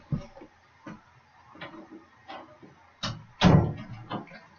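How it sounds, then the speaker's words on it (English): A door is shut indoors, with a few light knocks and shuffles leading up to one firmer thud, followed by soft clatter in a quiet room. "I'm gonna go shut my door"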